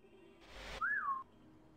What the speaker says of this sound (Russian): Кто там свистит?